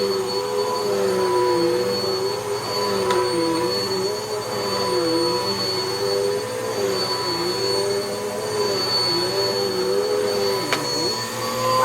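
A Bissell vacuum cleaner runs steadily up close with a constant motor whine and a slightly wavering drone, continuous throughout.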